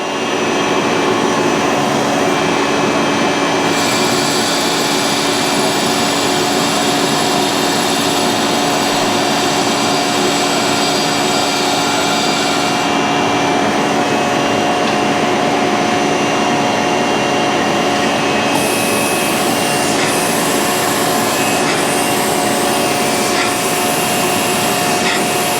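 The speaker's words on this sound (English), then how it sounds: "All right, so let me dress this wheel." A grinding wheel being dressed on a cam lobe grinder while cutting a Gen 5 L8T fuel pump lobe: a loud continuous whining hiss with steady machine tones and shifting high-pitched bands.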